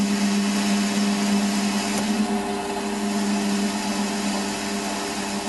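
Machine tool taking a light cut, about 60 thou a side, on a part of a Webster engine in inch-and-a-half steel, a steady loud motor hum with a continuous cutting whir and no voices.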